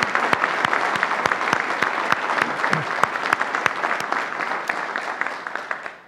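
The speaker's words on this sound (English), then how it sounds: "I'm going to ask for a round of applause for Pete Daly." A room full of people applauding at the 2016 U.S. Naval Institute Annual Meeting, dense clapping that holds steady for several seconds before starting to fade at the end.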